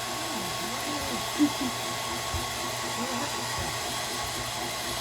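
A hair dryer blows during a pet's first bath, a steady close whoosh that runs unbroken throughout, with a brief faint voice partway through.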